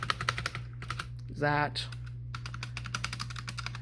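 Keys clatter in steady, quick bursts on a MageGee MK-Box 60% portable mechanical gaming keyboard, close and crisp, with a brief spoken phrase and a low electrical hum underneath.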